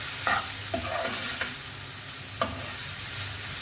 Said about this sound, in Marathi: छान असं फ्राय करून घ्या. कांदा एकदम विरघळून नाही दिला, थोडंसं कचवट ठेवलं.